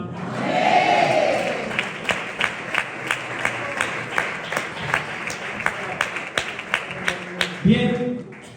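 Church congregation at a Wednesday service applauding together in a steady rhythmic clap that keeps going for several seconds after a murmur of crowd voices, with a voice speaking near the end.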